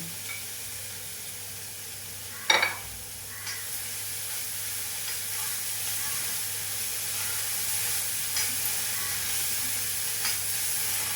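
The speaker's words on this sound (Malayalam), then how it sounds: "ഇനി അതിനകത്തേക്ക് അരിഞ്ഞു വെച്ചിരിക്കുന്ന രണ്ട് പച്ചമുളകും വേറ്റിലയും കൂടി ഇടുന്നു" Green chilies and betel leaf drop into a hot pan for a bitter gourd tamarind curry, giving a sharp burst of sizzle followed by a steady, moderate frying hiss with faint stirring clinks.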